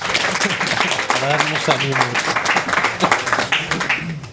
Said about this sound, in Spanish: Les damos un aplauso a todos para poder arrancar.